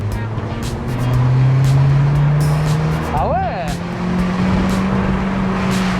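A Honda Civic engine drones and rises as it accelerates, heard from inside the cabin, with a brief tire chirp midway and a short spoken remark.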